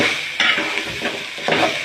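Cooked rice being stirred and fried in a pan, with a continuous sizzle broken by a few scraping strokes of the spoon, close and clear with no talk.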